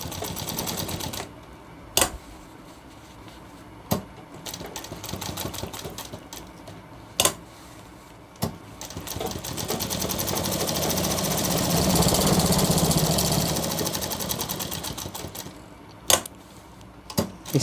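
A sewing machine stitches around the corner of a shirt cuff, running in long steady bursts broken by sharp clicks and pauses, close by with no talk.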